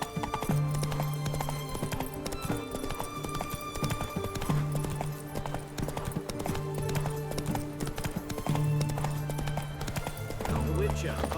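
Roach, a horse in The Witcher 3 video game, gallops with rapid, rhythmic hoof clip-clops over a musical score, with a few short voiced sounds mixed in.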